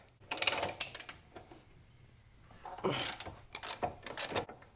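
A ratchet wrench loosening the lower ball joint bolt on a Mazdaspeed MX-5 during a coilover install gives short bursts of clicking ratcheting, close by, separated by a quiet gap.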